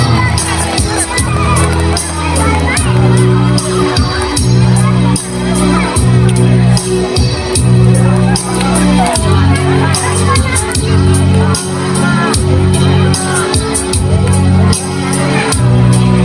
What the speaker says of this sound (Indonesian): beri tepuk tangan yang semarak untuk kakak teteh kita semua